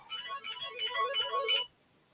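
A mobile phone ringtone plays as a short, bright electronic melody for about a second and a half, moderately loud and close, then cuts off abruptly into near silence.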